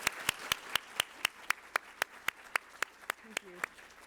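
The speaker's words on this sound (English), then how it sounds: "Let's give her a round of applause." Quiet, evenly spaced claps in a steady rhythm of about four per second honor an event's MC at a county business hall of fame ceremony, with a faint voice briefly heard near the end.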